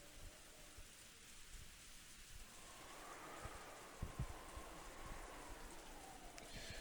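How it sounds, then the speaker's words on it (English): Steady rain pours through a stormy night in the visual novel Umineko: When They Cry, with a soft, low rumble of distant thunder rolling in partway through and no voices. "Through the window, the darkness of the rainy night could be seen, along with the occasional thunderbolt."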